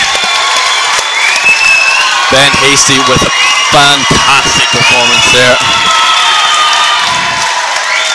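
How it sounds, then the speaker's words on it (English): A crowd at an MMA fight cheers and roars continuously after a submission win, under loud, close commentary from someone speaking throughout. "And the crowd goes wild."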